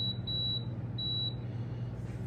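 A Power XL cooker gives two short, high electronic beeps as its temperature is set, each clear and bright above a steady low appliance hum.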